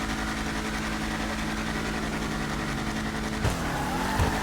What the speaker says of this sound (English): So the engine sound is pretty similar to the Mustang, the regular Mustang itself.